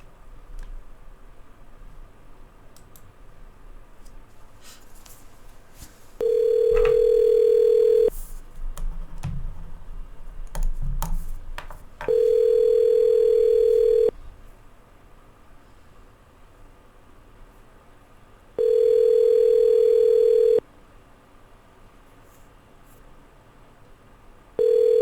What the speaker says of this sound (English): I'm going to give him a call, see where it goes from here.